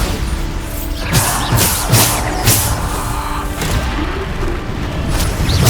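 Bombarda spell explosions in the Hogwarts Legacy video game, several booming blasts with crashing impacts and whooshes over a busy combat soundscape.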